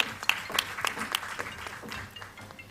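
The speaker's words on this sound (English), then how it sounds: "A huge round of applause for them too, please." An audience at an awards summit applauds, a crowd of hands clapping in a dense, fairly soft patter with a few sharper claps near the start, fading slightly toward the end.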